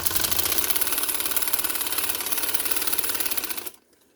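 An electric sewing machine stitching lace onto fabric runs in a steady, fast, whirring chatter close by for several seconds, then stops abruptly into near silence.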